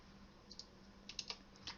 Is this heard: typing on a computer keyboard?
yes